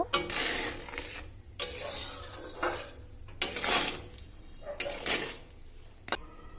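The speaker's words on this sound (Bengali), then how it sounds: "এবার আবারও ভালো করে আমি মিশিয়ে নেব" Chili pickle being stirred after lemon juice goes in, a spoon scraping through the thick mixture in a pot in several separate bursts with short pauses between, close and fairly loud, with no talking.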